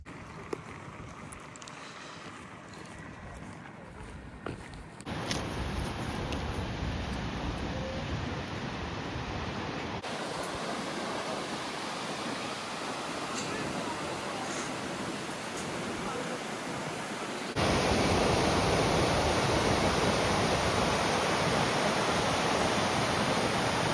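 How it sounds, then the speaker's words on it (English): Broad, steady roaring rush of a waterfall in east Iceland in winter, continuous and enveloping, swelling louder toward the end with no talk. "Today I'm at the big ol' waterfalls."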